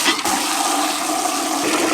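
Water gushes under high pressure from a hose into a travel trailer's fresh water tank, a loud, steady rushing hiss that stays constant throughout.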